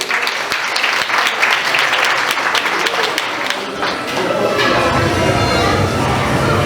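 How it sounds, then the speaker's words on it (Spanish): A crowd of wedding guests claps loudly and steadily, the applause fading briefly before a rumbling murmur of voices and movement takes over. "E invito al señor Luis Oyuri, para quien le damos muy fuertes aplausos."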